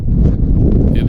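Strong hurricane-force wind buffets the microphone at Meteor Crater, a loud, steady low roar with gusty rumbling and rustle that does not let up.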